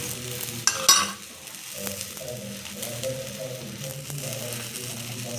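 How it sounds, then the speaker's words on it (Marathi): Coriander dhapata flatbread fries in oil on a hot griddle, giving a steady, close sizzle after a brief clatter as it is placed down. "तव्यावर तेल टाकून घ्यायचं आणि ही पोळी आहे ना इथे टाकून द्यायची"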